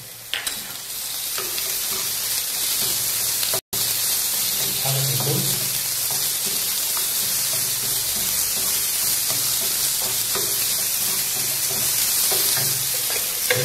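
Chicken frying and sizzling in a pan as it is stirred for a risotto, a steady hiss with scraping spoon strokes running throughout, close and constant, with a momentary break near the start.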